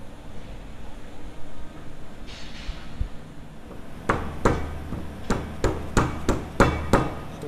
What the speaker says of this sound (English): we need to hammer it up a little bit with a rubber hammer